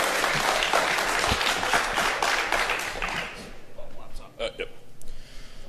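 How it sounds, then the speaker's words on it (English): A conference crowd applauds a speaker at a security talk, with dense clapping for about three seconds before it thins and tails off, followed by scattered handling noises and a brief voice. "So let's give the man a big round of applause."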